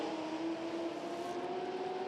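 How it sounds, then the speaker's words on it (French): A historic Porsche race car, number 57, drives at the Le Mans Classic 2018, its engine giving a steady, fairly faint, distant drone with a sustained tonal hum and no voices over it. "Ici la Porsche 57 de Francisco Carneiro, Joao Cañas et Hipólito Pires, les Portugais"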